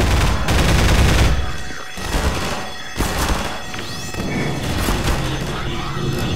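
Combine soldiers attack in Half-Life 2 Episode 2 with loud, sustained gunfire, dense bursts of shots and crashing impacts filling the whole stretch at close range, with brief lulls between volleys.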